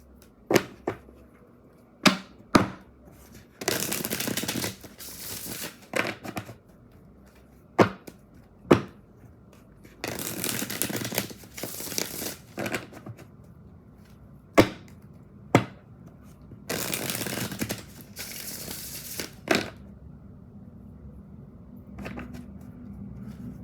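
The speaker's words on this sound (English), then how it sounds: "This is like a little commercial break as I shuffle these cards, okay?" Tarot cards being shuffled by hand, heard as a series of short, sharp riffling bursts and taps at irregular intervals, some longer flurries, fairly close with no talk.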